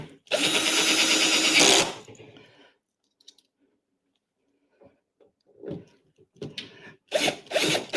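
A power drill drives screws during the assembly of an Arcade1up claw machine cabinet: one long, loud whirring burst, a quiet gap with faint clicks, then several shorter drill bursts close by.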